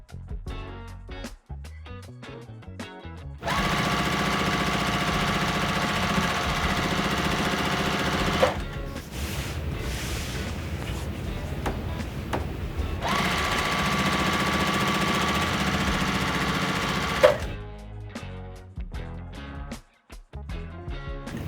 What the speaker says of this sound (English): I'm gonna sew my rows together, super simple.